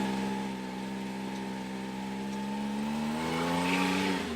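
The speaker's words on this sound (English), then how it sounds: "Oh yeah, it's not even blowing off. Just compressor surge." A turbocharged Can-Am Maverick X3 with a heavy-spring blow off valve hums at a steady pitch, then the tone rises as the engine builds and the turbo compressor surges with a fluttering edge, close and moderately loud.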